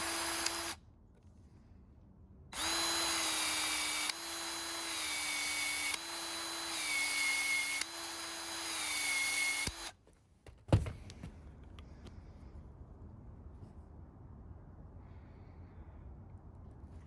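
PEX-A expansion tool working on tubing in a 1992 motorhome re-plumb: a steady motorized whine in repeated bursts with short pauses as the head expands and rotates, then it stops with a sharp click and quiet room noise follows.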